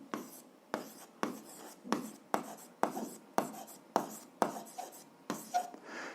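Pen strokes scratch across paper while an algebra exercise is worked out, coming in about nine distinct rhythmic bursts, each a short scraping run, close and fairly quiet with no talking.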